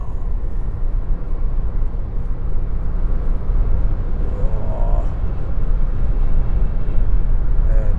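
A Nissan Leaf NISMO electric car cruising at high speed, around 140 km/h, gives a steady, loud broadband rush of road and wind noise with a faint tonal motor whine rising briefly midway.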